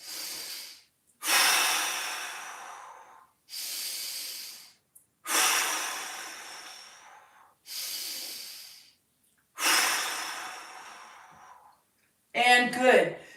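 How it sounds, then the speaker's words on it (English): Deep breathing during a mobility exercise: six long, loud, close breaths, each a rushing hiss of a few seconds, evenly spaced with silent pauses between them, followed by a brief voice at the end. "Reach the hands way overhead. Walk the shoulders away from the hips. Create more space. 3 big breaths."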